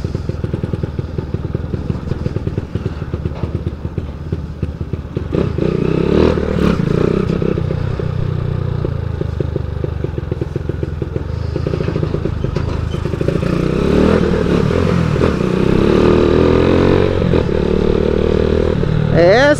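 A 160 motorcycle with a 65.5 piston, carburetor and alcohol fuel revving loudly close by in a dusty setting, its engine note rising and falling through repeated throttle blips, with someone talking over it.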